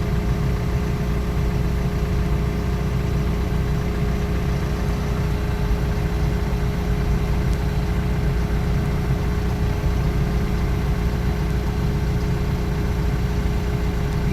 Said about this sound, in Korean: K2에서 지금 클러치 작동 작업을 자기가 스스로 하고 있습니다